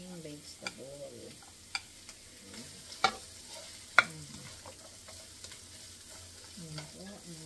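Pansit noodles with carrots being stir-fried, soft sizzling under scattered scraping and clinking of a utensil against the pan, with occasional sharp taps and a voice briefly talking.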